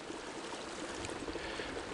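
Faint, steady rush of a mountain stream flowing beside the Appalachian Trail between Indian Grave Gap and Dick's Creek Gap, a soft continuous wash with no voices.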